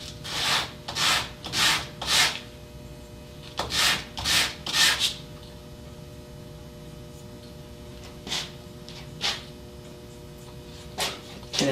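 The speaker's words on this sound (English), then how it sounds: "When I cut that direction, I get a burr on the end, which I need to sand off." Sandpaper rubbing the burred end of a wooden board after a band saw cut, in bursts of three to four quick scrubbing strokes with pauses between and a few lighter single strokes later, over a steady low hum.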